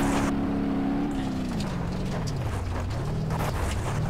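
Engine note of a car in a 4-wheel drift in BeamNG.drive, a steady loud harmonic drone that falls in pitch and then wavers up and down as the drift is held, with no voices.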